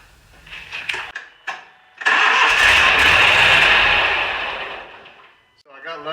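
A lawn mower engine clicks several times as the starter tries to engage, then catches on the second try and roars loudly and steadily before winding down, with a few brief clatters at the end.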